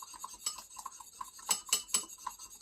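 A spoon clinks and scrapes against a small dish while stirring a homemade face mask of aloe, egg white and gelatin, a quick run of light metallic taps and chinks, close and faint, with no talk.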